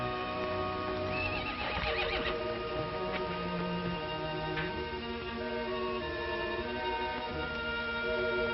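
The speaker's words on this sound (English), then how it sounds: "It's your horse. Standing out there as pretty as can be." A horse in a 1949 Western film whinnies in a long, wavering call early on, heard over a steady music score, with faint hoof clops here and there.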